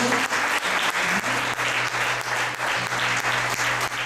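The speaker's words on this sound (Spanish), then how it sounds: "Un aplauso fuerte a Jesús." Loud, sustained applause from a church congregation fills the space, with dense steady clapping and a faint low hum running underneath for the whole stretch.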